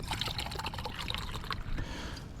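Water poured into a pot on a small camping stove, bought from Amazon, outdoors on a wet, misty, windy walk; a steady close trickle and splash runs for a couple of seconds.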